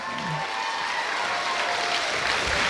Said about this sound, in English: We're going to keep on clapping until he comes out.